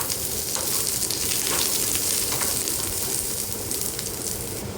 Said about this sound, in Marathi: थोडंसं तेल टाकून पुन्हा आपल्याला व्यवस्थित भाजून घ्यायचं आहे